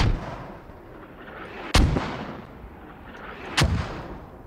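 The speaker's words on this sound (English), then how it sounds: "Those mortars putting in the work right now." Mortar fire in the tactical shooter Squad: two heavy, booming blasts roughly two seconds apart, each a sharp crack followed by a rolling decay, set over a low, continuous battlefield rumble.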